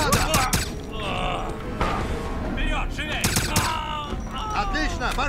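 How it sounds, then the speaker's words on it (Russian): Dense, continuous gunfire from the Wolfenstein shooter game, with rapid automatic bursts, shattering impacts and pained groans layered over each other at loud, steady volume, while voices call out in the mix. "Я под обстрелом!"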